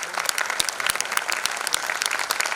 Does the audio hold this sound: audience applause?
yes